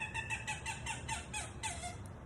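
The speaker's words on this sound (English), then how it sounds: "Just a little bird in the swamp back there." A small bird in a Florida swamp calls in a quick series of high, chirping notes, repeated about ten times in a fast rhythm, moderately near and clear over a quiet background.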